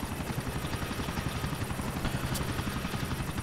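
Helicopter in the video game GTA IV, a loud, steady rotor thump with engine whine running continuously and close, with no talking over it.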